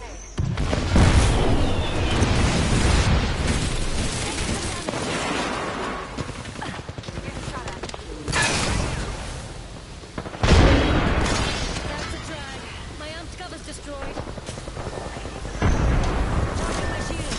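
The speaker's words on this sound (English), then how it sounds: "Throwing thermite grenade." Heavy booms and bursts from a thermite grenade and battle in the video game Apex Legends, several loud blasts with rumbling aftermath repeating across the clip, with game voice lines mixed in.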